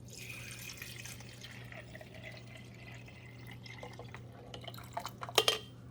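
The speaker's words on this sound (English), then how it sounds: "I'm going to pour it back here where the water goes" A water and vinegar mixture is poured into the reservoir of a Farberware 5 Cup Programmable Coffee Maker, faint trickling building to louder splashing near the end, with no talk.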